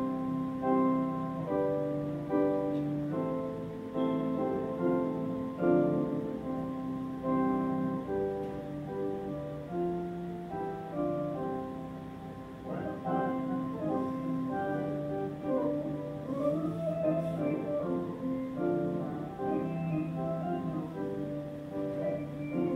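Resynthesized music built from chroma notes shaped by a broad MFCC spectral envelope: a continuous, buzzy, synthetic chordal wash with shifting sustained tones and steady loudness throughout.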